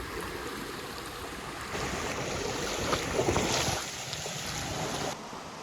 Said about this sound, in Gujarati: આવા નાના નાના વોટરફોલ અને પાણીના વેણકા છે